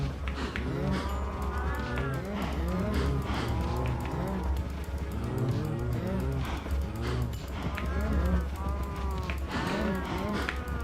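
A crowd of Minecraft cows moos over and over in overlapping bursts, loud and close, with a steady low rumble underneath.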